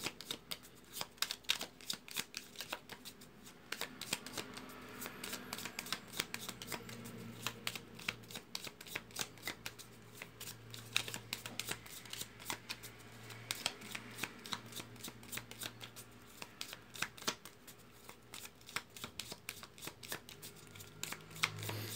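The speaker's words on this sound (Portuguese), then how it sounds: "Então vamos às cartas para mais uma atividade aqui no canal, embaralhando para colocação." Tarot cards shuffled by hand at close range, a continuous soft riffling and slapping of card stock that carries on steadily for over twenty seconds without talk.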